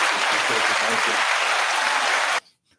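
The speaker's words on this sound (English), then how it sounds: "We're going to give them a hand clap to that." Dense applause from a group of hands clapping steadily and loudly for over two seconds, then cutting off abruptly into near silence.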